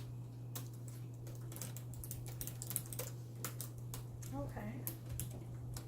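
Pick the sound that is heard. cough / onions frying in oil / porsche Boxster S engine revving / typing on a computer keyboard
typing on a computer keyboard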